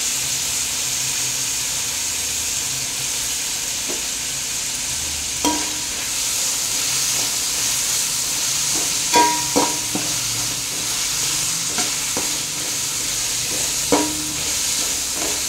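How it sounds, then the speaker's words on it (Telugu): Coriander and mint stir-fried into chicken fried rice biryani in a hot pan: a continuous sizzle with steam hiss, broken by occasional clinks and scrapes of a spatula against the pan. Nobody speaks. "ఇప్పుడు కొత్తిమీర, పుదీనా కూడా వేసేస్తున్నాం."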